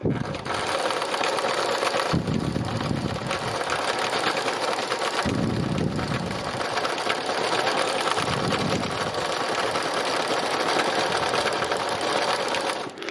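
A sewing machine stitches down small velvety flower shapes in bursts, its close rapid whir pausing and restarting several times as the fabric is repositioned.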